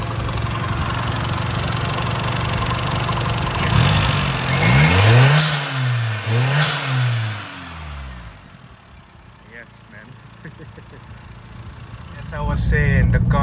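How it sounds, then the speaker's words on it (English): A car engine started up and running, with a steady low hum broken mid-clip by two rising and falling revs, then settling back to a smooth idle; a voice talks briefly over it. "the car is running really good"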